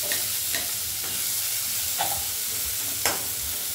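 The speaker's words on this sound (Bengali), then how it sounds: "এরকম কুচনো পেঁয়াজ মা এখানে একটু ভেজে নিচ্ছে" Chopped onions fry in a little oil with dried red chillies, giving a steady close sizzle with a few soft stirring scrapes spaced through it, no voices.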